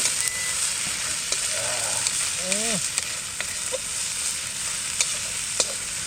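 Onion sizzles in hot oil as ginger, garlic and green chili are added while cooking alongside rohu fish fingers, a steady loud frying hiss with occasional stirring clinks and brief squeaky sounds in the background.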